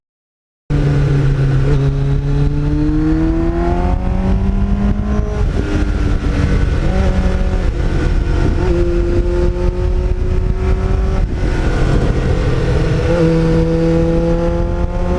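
A Kawasaki Ninja fitted with a Muzzy exhaust screams loud and close, its high-pitched engine note rising and falling through repeated revs and gear changes for the whole stretch, no voices over it.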